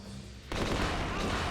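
Explosion in the survival horror game Resident Evil Code: Veronica, a sudden loud blast that cuts in after a quiet start and rumbles on as a sustained roar to the end.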